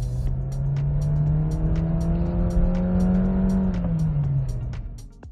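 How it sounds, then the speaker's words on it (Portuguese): The engine of a 2020 Renault Stepway revs high and holds a loud, strained whine for several seconds, rising slightly before it drops back, with no voices over it. "faz o motor subir a altos giros para entrar na faixa de torque máximo. E o barulho acaba incomodando"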